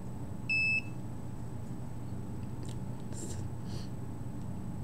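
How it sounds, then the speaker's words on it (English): A single short electronic beep from a radiation detector switching on sounds once near the start, over a steady low hum and faint background noise. "So the detector just turned off automatically, so I turned it back on. That was the beep."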